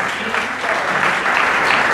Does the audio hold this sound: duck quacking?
no